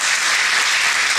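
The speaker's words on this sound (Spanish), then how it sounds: "Un aplauso para ellos" Church congregation clapping in a brief, dense burst of applause, close and steady, with no speech over it.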